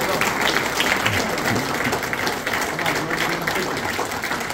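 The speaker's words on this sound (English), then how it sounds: "please give a round of applause to Tony Papamakos" A dinner audience applauding, a steady dense roar of many hands clapping that continues evenly throughout without a break.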